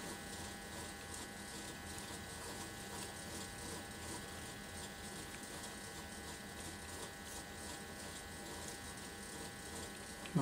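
The small motor of a Life Like CalTrain F-40 model diesel locomotive runs with a steady, faint electric whirr and hum, unbroken for the whole stretch with no talking.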